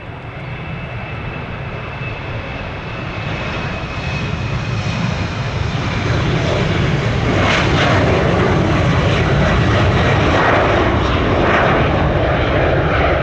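A passenger airplane's engines roar at Orlando International Airport in late-day conditions, a loud, broad rumble that swells over several seconds and stays heavy and sustained, with no talk.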